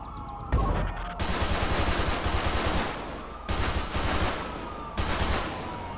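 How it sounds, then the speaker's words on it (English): Rapid bursts of gunfire in GTA 5 as shots are fired at a fleeing car's tires during a police chase, three loud clusters of shots separated by brief pauses. "I'm gonna shoot the tires for sure."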